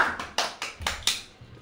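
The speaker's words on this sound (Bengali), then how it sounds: "আরণ্যকের জন্য হাততালি দাও" Children clap for a classmate in a classroom multiplication-table contest, about seven sparse, fairly quiet claps spread irregularly over the moment.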